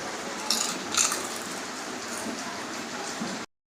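Steady rain pours down in a continuous, even hiss, with a couple of slightly louder splashes early on before the sound cuts off abruptly.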